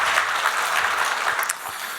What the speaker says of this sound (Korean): 가브리엘 찬양대 박수로 격려하겠습니다.